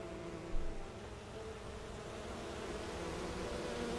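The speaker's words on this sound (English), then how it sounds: "Are they supposed to be bees?" Bees at a honey farm in the fantasy game Enderal make a dense, steady buzzing drone that holds throughout with no pauses.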